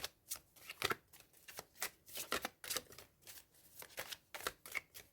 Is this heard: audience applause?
no